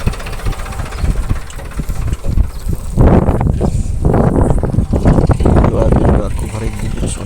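A Sonalika tractor loaded with crop chaff runs its engine with a steady mid-pitched rumble and knock, which grows louder partway through, while people talk over it.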